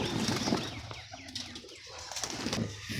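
Pigeons, female birds kept for flying, give soft coos and bursts of wing flapping close by, a busy layered bird sound that continues throughout.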